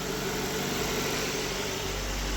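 A rebuilt 20-valve Toyota Corolla FX engine idles in a steady, even hum with no variation, heard alone and close for a couple of seconds.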